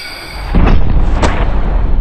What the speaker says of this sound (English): Shot 2, Nerf dart versus ballistic dummy.